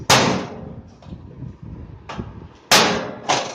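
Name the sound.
hammering a nail held with pliers into air cooler grill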